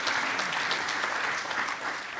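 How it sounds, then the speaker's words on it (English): Brief round of applause from the crowd at a college volleyball season banquet, an even, steady patter of many hands, with a little speech underneath. "they definitely deserve an applause for that."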